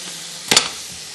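Whole chillies drop into hot oil for yakhni pulao, letting out a brief, sharp burst of sizzling that spikes and fades over a steady background frying hiss.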